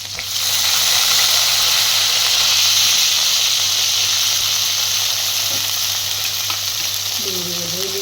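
Chopped garlic, green chili and onion sizzle steadily in hot oil in a pan, a loud continuous frying hiss that holds evenly throughout, with a brief soft clink near the end.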